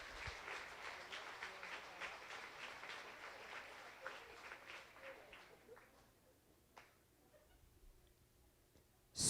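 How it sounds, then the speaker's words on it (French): An audience at a community gala claps, a fairly faint spread of applause that thins out midway, leaving scattered claps and quiet room noise before a sudden bump at the end. "On peut les applaudir, certainement."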